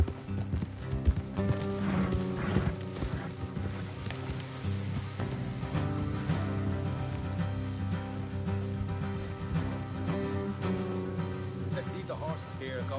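Horse hooves clip-clop steadily off the road, several horses walking at an even pace, close and fairly loud, with music and voices talking over them.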